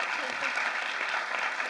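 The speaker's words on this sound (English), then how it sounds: "can we give them a round of applause because they did a fantastic job" A live audience applauds the cast of the film It's What's Inside in a dense, continuous wash of clapping at a steady level, with a voice speaking over it.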